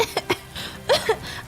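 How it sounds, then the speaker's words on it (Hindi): A woman coughs badly from the smoke of a clay stove lit indoors in a small room, several sharp, fairly faint coughs in short clusters with gaps between them. "वो बुरी तरह खांस रही"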